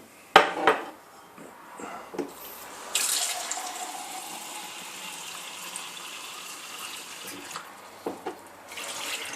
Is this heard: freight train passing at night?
no